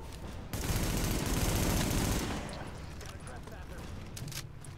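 Sustained automatic gunfire from a heavy-recoil weapon in the video game The Division, a dense loud burst that eases into scattered shots and background battle noise.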